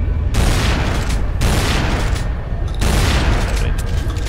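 A shotgun fires three times in Tomb Raider: Anniversary, each blast a loud booming report with a decaying tail, spaced roughly a second and a half apart, with no talk.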